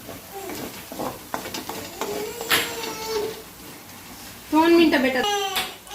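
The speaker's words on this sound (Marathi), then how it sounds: "तर असं लसूण जिरा आणि लसणाचं तिखट व्यवस्थित परतून घ्यायचं आहे मस्त कलर येईपर्यंत" Garlic, cumin and garlic chili powder sauté in a pan while a wild kavdar vegetable dish is prepared. A soft sizzle and the scrape of stirring run throughout, and a voice rises briefly near the end.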